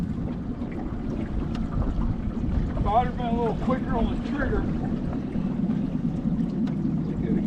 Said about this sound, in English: make some boat noise